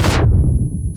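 A grenade goes off in the battle royale game PUBG, opening with a loud bright blast that quickly collapses into a low rumbling tail, close and with no voice.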